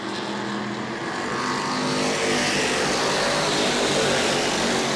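Race cars roar around a short oval track at a family fun night, a dense, steady wall of engine noise that swells slightly as the pack passes, loud and continuous with no voices.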